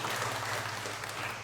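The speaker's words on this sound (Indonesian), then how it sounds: "Tepuk tangan untuk zero bunga potong." Brief, steady applause from a church congregation during an Easter Mass, a dense wash of clapping with a low hum beneath it.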